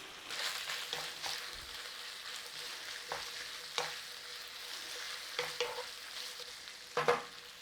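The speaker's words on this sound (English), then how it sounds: "I'm going to let that bacon cook in around that bacon fat." Bacon frying in its own rendered fat in a pot for a traditional Romany stew, a soft continuous sizzle with intermittent louder clacks and scrapes of stirring, moderately quiet with no voices.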